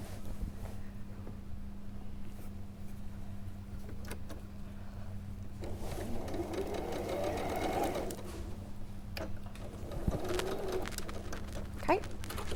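A sewing machine runs a short line along a quilt edge and then back stitches, its steady motor whir starting partway through under quiet talk, with birds cooing faintly in the background.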